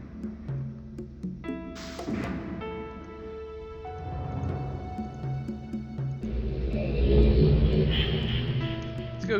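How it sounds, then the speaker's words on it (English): A doorless elevator running in the video game realMyst, a mechanical rumble and whir that builds and grows louder over several seconds amid layered tonal game ambience, without any talking. "This is the only elevator that doesn't have a door."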